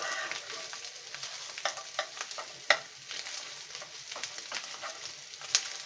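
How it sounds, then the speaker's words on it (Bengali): Rui fish roe fries in oil in a pan, a quiet, close sizzle broken by irregular stirring scrapes and occasional sharp clicks of the utensil against the pan. "আমরা খুব ভালো করে ভেজে নিচ্ছি,"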